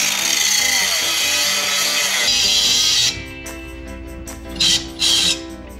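A power tool cuts away a welded-on AC pump bracket on a rat rod wrecker, giving a loud, sustained grinding and cutting noise that cuts out briefly near the middle and is followed by two short bursts.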